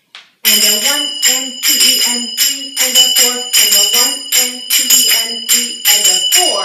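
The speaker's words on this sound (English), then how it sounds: "We're going to play the Zills on the step touch." Finger cymbals (zills) ring out in steady repeated strikes, bright and metallic, punctuating belly dance step touches while a voice counts the beats aloud over them.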